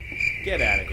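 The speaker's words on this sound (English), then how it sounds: "You're done with that cricket sound." A cricket chirping sound effect gives a thin, steady high trill that runs the full second, and someone speaks briefly over it.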